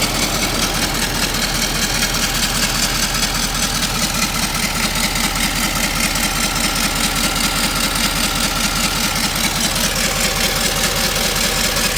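A 2013 Ford F350 pickup's 6.7 Powerstroke diesel V8, with EGR and DPF deleted, idles steadily up close with a loud, even low clatter and rumble throughout, no talk.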